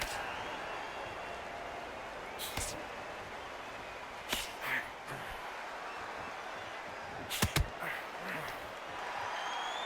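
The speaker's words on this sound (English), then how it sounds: "The crowd here cannot wait. They've been buzzing all day long" A crowd buzzing in a boxing arena in the video game Undisputed, a constant dense murmur of many people with a few scattered claps and brief louder bursts.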